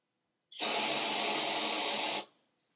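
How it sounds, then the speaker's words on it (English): Champion brake cleaner blasts from an aerosol can in one steady, loud, hissing spray lasting about a second and a half, then cuts off sharply. "Really nice spray."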